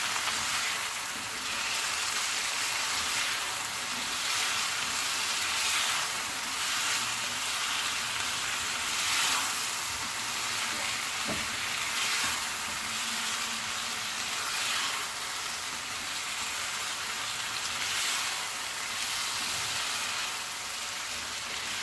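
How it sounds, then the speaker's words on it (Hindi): Potatoes frying with salt, red chilli and turmeric in a pan for aloo bhujia, a steady close hiss of sizzling oil with a single soft stir or scrape midway. "और अब हम इसे दोबारा भूनेंगे। अच्छी तरह से भूनना है इसे।"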